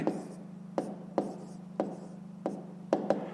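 A pen writes an answer to a fifth-grade maths exercise by hand, with about six sharp, quiet strokes at an uneven pace over a steady low hum, and no talking.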